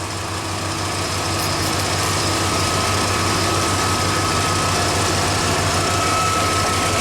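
The engine of a 1995 Ford F150 labors under heavy alternator load while charging a battery. It produces a loud, steady, low drone with a throbbing idle pulse that runs throughout, with no talk.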